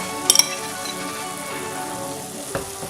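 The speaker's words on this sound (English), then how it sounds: "the chicken's cooking nicely, and now I'm going to add in the potatoes" Chicken and cut potatoes fry in a pan with a steady, even sizzle, while a couple of sharp metallic clinks from a utensil come early on and one more knock follows near the end.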